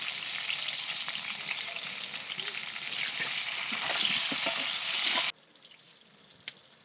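Diced potatoes sizzle and fry in hot oil for a home-style vegetable biryani while a spatula stirs them. The steady close crackle stops abruptly near the end, leaving quieter room noise and one faint clink.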